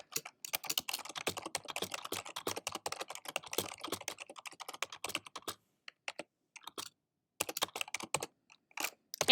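Typing JavaScript code on a computer keyboard, with fast bursts of crisp, close keystrokes broken by brief pauses and a few isolated taps. No talking is heard.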